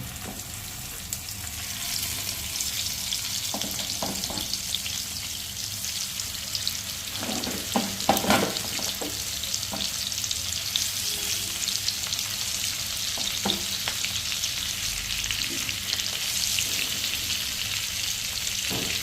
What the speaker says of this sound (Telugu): ఆయిల్ హీట్ అయిందండి. ఇప్పుడు మనం పీసెస్ ఇందులో వేసుకుందాం.